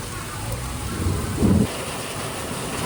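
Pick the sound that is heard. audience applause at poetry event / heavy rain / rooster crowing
heavy rain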